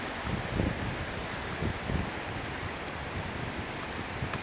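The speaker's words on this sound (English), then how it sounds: "Yeah, not bad. A bit windy." Hurricane Matthew's wind and rain roar as a steady, dense outdoor wash, with gusts swelling and buffeting the microphone every second or so.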